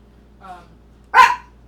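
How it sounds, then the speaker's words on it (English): A dog gives a faint, short whine or yip and then one loud, close bark during a thunderstorm, with quiet background between. "Our neighbors are activating the dogs."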